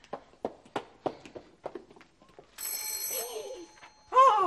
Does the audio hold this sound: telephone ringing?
yes